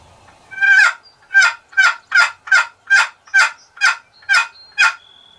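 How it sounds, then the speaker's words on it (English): Wild turkeys gobble outdoors in a rapid run of about ten loud, evenly spaced calls, a double gobble from more than one bird, clear with no talking. "Double gobbler."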